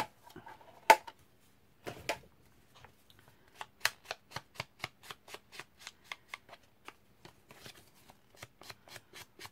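Paper is cut for an ATC envelope shaped like a tag: a couple of louder initial snips, then a steady, even series of quiet, crisp ticks from the blade working through the paper. The sound is close and there is no speech.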